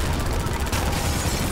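A machine gun fires in Half-Life 2 with the MMod modification. The rapid, loud burst of shots cracks in a dense rattle and fades into a booming echo.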